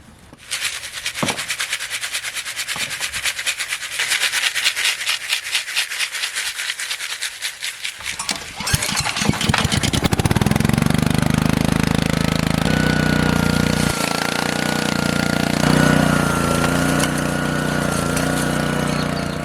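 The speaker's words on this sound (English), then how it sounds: "I put the ore we collected through 2 passes in the RC1. This is a rough crush." An RC1 rock crusher makes a rough crush of gold-bearing quartz ore, a loud, continuous mechanical grinding and rattling that runs throughout, its engine drone deepening and growing denser partway through.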